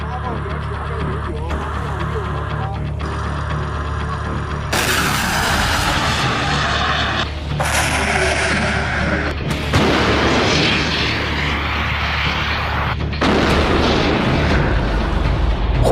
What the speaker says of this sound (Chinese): 现在，火箭炮的实弹射击就要开始了。